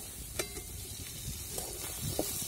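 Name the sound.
oil sizzling with onion in a kadhai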